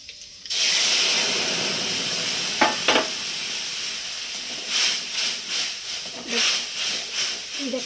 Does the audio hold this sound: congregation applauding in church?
no